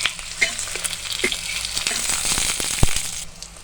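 Aloo gobi paratha sizzling in ghee on a hot griddle, a steady close crackle and hiss with scattered sharper pops throughout, no voices.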